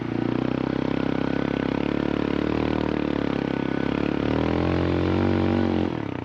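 A CF Moto Papio CL small motorcycle engine revs hard and steady while churning through sand off-road, a loud continuous drone whose pitch climbs and dips before cutting off near the end.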